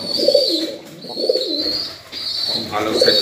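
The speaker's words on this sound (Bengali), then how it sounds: "খুব ভালো পায়রা, বাচ্চা আছে খোপে।" Highflyer Giribaz pigeons in a loft with young birds in the nest boxes coo in soft, repeated low phrases, with a steady higher chirping running over them throughout.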